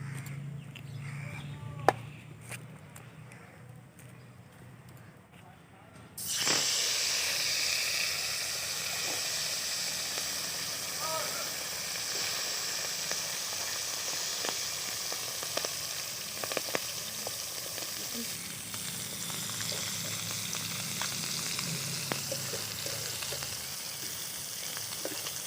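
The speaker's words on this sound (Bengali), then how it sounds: "কম তেলে মাছ ভাজা" Fish frying in a small amount of oil in a hot kadai in a village kitchen, a loud continuous sizzle and hiss that bursts in after a quieter opening and holds steady with occasional crackles, with no voices.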